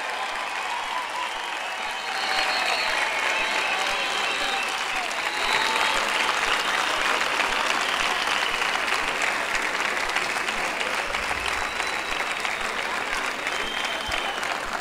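Dense, sustained applause from a large crowd at a street protest in Reus over the Procés sentence, loud and steady throughout, swelling slightly after the first couple of seconds.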